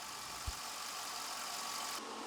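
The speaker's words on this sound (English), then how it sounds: "It's got a super nice, deep, mellow idle." A 2004 Chevrolet C5 Corvette engine idles steadily with a low, deep, mellow exhaust rumble, one brief thump near the start, no voices.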